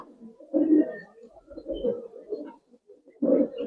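Gribaz coloring pigeons cooing in a loft, a few soft, throaty coos in uneven bursts, close by and moderately loud, with no talking.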